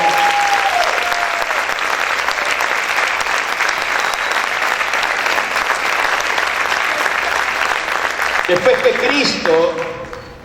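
A church congregation applauds the Lord in a long, dense, steady burst of clapping that fills the space, with a few voices rising near the end as it tapers off.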